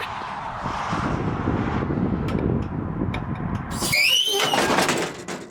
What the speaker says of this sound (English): You just twist the jack.